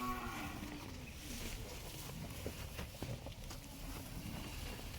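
A bull on a cattle farm gives a low, drawn-out moo partly masked by steady wind or rumbling background noise, fairly faint overall.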